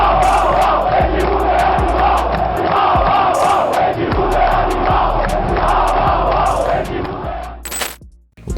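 Palmeiras supporters chant loudly in unison inside the Parque Antártica stadium, a dense roaring crowd with rhythmic beats running throughout before the noise drops away near the end.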